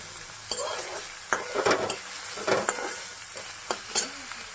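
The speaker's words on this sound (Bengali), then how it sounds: "সেই তেলে আমি করে রসুন কুচি, পেঁয়াজ কুচি, লঙ্কা কুচি, আদা কুচি এগুলো সব দিয়ে দিচ্ছি। এটা একসঙ্গে ভেজে" Chopped garlic, onion, green chilli and ginger frying together in hot oil, a constant sizzle broken by several sharp scrapes and clinks of a spatula stirring the pan, close and alone.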